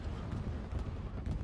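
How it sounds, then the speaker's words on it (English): Bombing run explosions in the Hell Let Loose video game, a loud, dense, continuous rumble of blasts filling the whole stretch. "Oh, bombing run."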